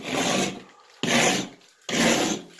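Popcorn texture being scraped dry off a ceiling, three long loud rasping strokes in steady rhythm, close and without talk.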